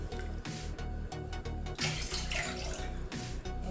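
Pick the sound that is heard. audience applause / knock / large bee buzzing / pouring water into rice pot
pouring water into rice pot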